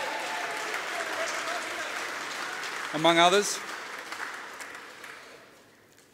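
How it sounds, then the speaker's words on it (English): Crowd applause at a 2018 football club season launch, dense clapping under a speaker's voice, with a brief louder burst midway before the clapping thins out and fades toward the end. "Round of applause for Ben"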